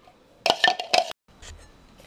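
Carrot puree is moved into a pot of mashed potatoes with a burst of clinking spoon-on-metal scrapes and taps, then a soft settling sound, with no talking.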